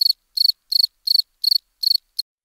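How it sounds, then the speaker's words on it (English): A cricket chirps in seven evenly spaced, high-pitched trilled bursts, the last one short, each made of rapid pulses, clear and close with silence between. "Cricket."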